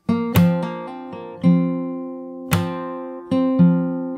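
Fingerstyle acoustic guitar plays the opening of a song's verse, with plucked notes and chords struck in a steady rhythm. Each attack rings out clearly and decays, close and fairly loud with no talking.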